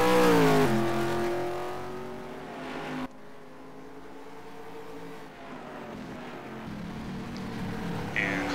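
Race cars in a racing video game sweeping through a tight chicane, engines revving hard then dropping as they brake and accelerate again, a continuous loud motor drone with shifting pitch.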